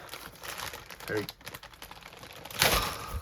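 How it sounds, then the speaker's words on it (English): Plastic packaging being torn open by hand, with crinkling and ripping bursts, the loudest tear near the end, close up with faint talk around it. "I'm just going to have to try and tear this open."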